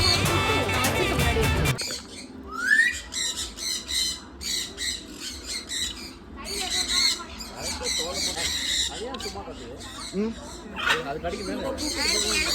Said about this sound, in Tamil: அப்படியே அது கிளியே பாரு